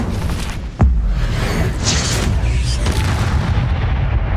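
Incendio fire spell blast in the video game Hogwarts Legacy, a sudden loud boom followed by a roaring, whooshing burst of flame that lingers for a few seconds.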